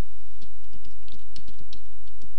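Keys clicking on a computer keyboard while a word is typed into a web page, a short uneven run of about a dozen crisp, close taps over a low steady hum, no talk.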